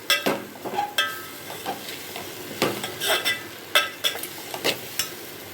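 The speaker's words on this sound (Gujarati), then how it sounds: "હવે એને આપણે સારી રીતે હલાવી દઈશું." A spoon stirs crumbled bajra rotla in a pan with spices, making a series of quick scraping strokes and light clinks over a soft sizzle, with no voices.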